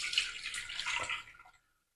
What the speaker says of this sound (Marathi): आता दुधाला एका या सुती कपड्यावर टाकायचं आहे.